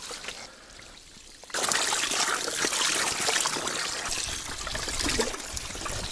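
Leather hides being sloshed and rinsed by hand in clean water after oak bark tanning, a loud, steady wet swishing and dribbling that starts abruptly after a quiet moment and runs on without talk.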